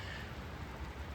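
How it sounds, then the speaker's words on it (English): Light rain falls steadily around a horse barn and pasture, a soft, continuous patter with no voices, lasting only a moment. "It's not raining hard enough to stop me from doing anything"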